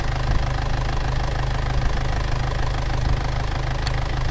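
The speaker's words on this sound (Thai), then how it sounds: "เครื่องยนต์เดินเรียบๆนะครับ" A 2001 Isuzu Dragon Power pickup truck engine idles steadily, a smooth low rumble with a constant even rhythm, close by and with no voices.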